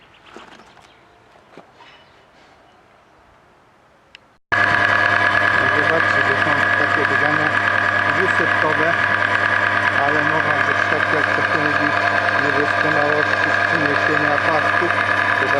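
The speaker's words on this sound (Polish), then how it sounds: "ten silnik na odcinaniu w pięknie walczy zamontowany" An engine bouncing off its rev limiter while fixed to a test mount: after about four seconds of faint background, a loud, steady, buzzing roar starts abruptly and holds without pause to the end.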